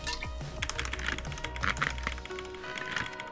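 Quick, uneven bursts of typing on a computer keyboard while playing Cook, Serve, Delicious, close and moderately quiet, with clustered key clacks and short pauses between runs.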